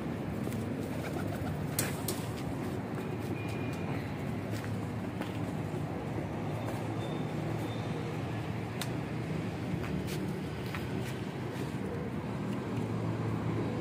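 Pigeons coo repeatedly in a low, throaty rhythm close by on a rooftop, with faint traffic hum in the background and occasional sharper bird calls.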